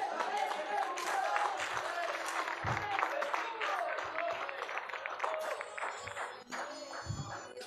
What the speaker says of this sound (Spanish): ¿Cuánto le dan un aplauso?